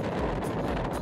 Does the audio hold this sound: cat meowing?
no